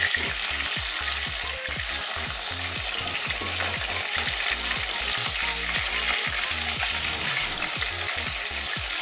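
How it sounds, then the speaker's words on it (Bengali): Pieces of rui fish frying in oil in a pan, a loud, close, continuous sizzle with rapid crackling and spatter running unbroken, no voices. "লাল লাল করে ভাজবো মাছগুলো"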